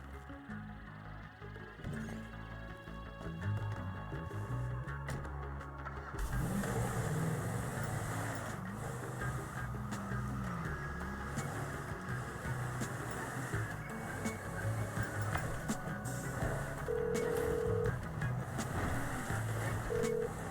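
Car engine in Grand Theft Auto V, a quiet idle that swells into a sustained revving drive after a few seconds, steady and moderately close with no one talking.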